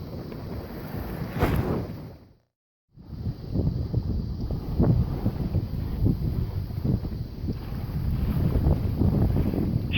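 A 19-foot sailboat runs wing on wing at sea under twin headsails, with steady wind rush and water wash close by, broken by a short silent gap early on.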